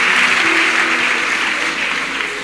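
A church congregation in Côte d'Ivoire applauds loudly for a short burst, a dense, even clapping that fills the space before easing slightly, with no speech over it.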